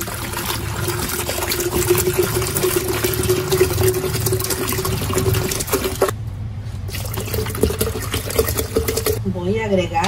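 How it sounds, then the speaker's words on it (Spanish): Water poured into a large pitcher while preparing an aloe vera and chia agua fresca, a steady rushing stream heard under someone talking. "En un pichel grande vamos a poner el agua."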